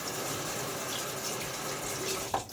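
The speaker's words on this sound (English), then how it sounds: "I rinse that first bit of soap off of my fingers" Water runs from a tap as shaving soap is rinsed off fingers during a wet shave. A steady close rush of flowing water is heard, ending in a small splash as the hands move under the stream.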